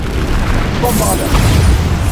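A Bombarda blasting spell explodes in Hogwarts Legacy, a loud, close, booming blast with a heavy low rumble and crackling spray that lasts about two seconds.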